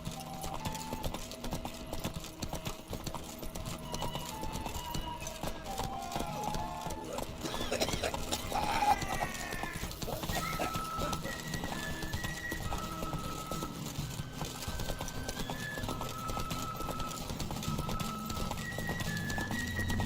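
A horse's hooves clip-clopping at a steady pace in The Witcher III, a continuous rhythmic clatter running under game music and ambient sound throughout.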